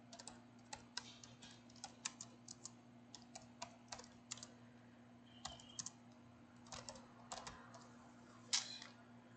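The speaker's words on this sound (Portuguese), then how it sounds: "testando digitação de texto no Linux" Keys clatter quickly and irregularly as text is typed on a computer keyboard in a text editor on Ubuntu Linux 24.04.1. The clicks are close but quiet, over a steady low electrical hum.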